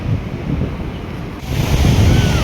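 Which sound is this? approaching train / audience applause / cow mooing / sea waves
sea waves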